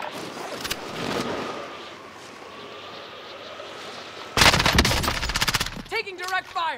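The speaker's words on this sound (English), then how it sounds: "Taking direct fire." Gunfire in Call of Duty: Modern Warfare. A quiet engine-like drone and a few scattered shots give way to a loud, rapid automatic burst lasting about a second, followed by a voice speaking close by.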